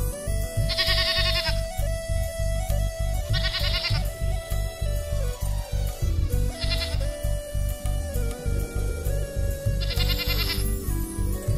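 Sheep bleating loudly and close, four long wavering calls spaced a few seconds apart over a steady droning musical backing.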